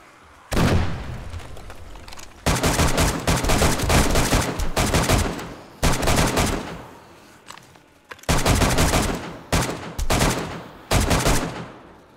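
Sustained bursts of automatic gunfire in the zombie survival game 7 Days to Die during a large day 42 horde night, loud and dense, coming in long volleys separated by short pauses.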